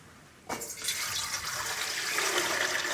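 Water pours steadily into an idli steamer pot in a village kitchen, starting abruptly and running on as a continuous splashing stream, close and fairly loud.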